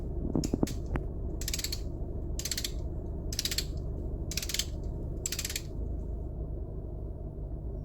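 Brake caliper piston press tool on a Ford Ranger, ratcheting in five evenly spaced clicking bursts after a few sharp metallic knocks, close and clear over a low steady background hum.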